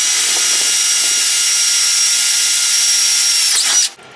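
A power drill whines continuously at high pitch, loud and close, drilling metal during a van build, then abruptly stops near the end.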